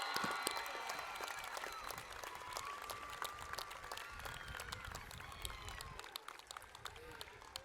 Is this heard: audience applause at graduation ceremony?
yes